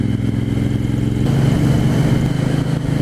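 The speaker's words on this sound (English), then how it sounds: "it just feels and sounds like a proper motorbike" A 1974 Moto Guzzi 750S motorcycle engine runs with a steady, meaty mid-range growl, a continuous near drone that swells slightly partway through, heard alone without talk.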